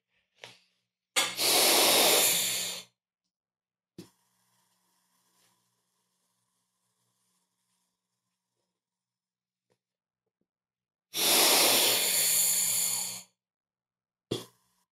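A person demonstrates diaphragm breathing for beginners while seated, with two long, loud, breathy exhalations several seconds apart and a few short sniffs and breaths between them, close to the microphone.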